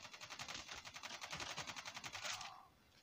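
Rapid automatic gunfire in the mobile shooter game Call of Duty Mobile, a fast, even burst of shots lasting over two seconds before cutting off, fairly faint.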